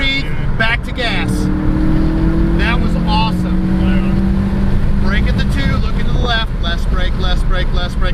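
A motorcycle engine on a race track rises and falls as it accelerates. Its whine climbs in pitch through the gears under steady wind roar, and an instructor speaks over the engine throughout.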